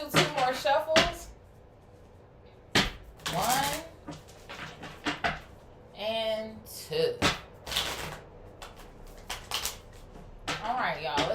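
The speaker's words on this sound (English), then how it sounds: "let's do 2 more shuffles." Tarot cards are riffled and shuffled in several quick, crisp bursts close up, separated by short pauses while someone talks between and over them.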